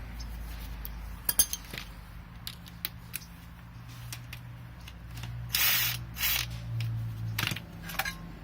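Ratchet wrench loosening a 6mm Allen bolt on a VW Passat engine, scattered near clicks and clinks of metal tools, then a few short bursts of faster ratcheting, with no talk.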